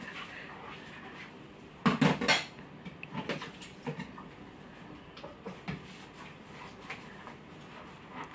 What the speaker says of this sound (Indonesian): Ini belajar cuci piring ini guys.